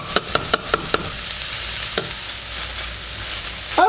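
Ground meat for sloppy joes frying in a pan, a steady close sizzle opened by a quick burst of five spatula taps, with one more knock midway and a scrape at the end.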